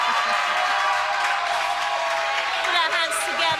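A TV talent show audience applauds contestant Leo with a steady, dense roar of clapping and crowd noise, with some voices and tonal sound mixed in.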